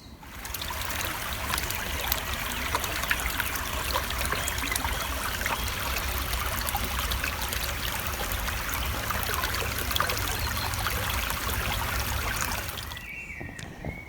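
Steady water trickling and babbling at a spring, continuous and close, with no voices, cutting off abruptly near the end.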